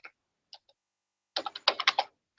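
C code is typed on a computer keyboard: a few isolated key presses come first, then a quick burst of crisp clicks, close up with no talking.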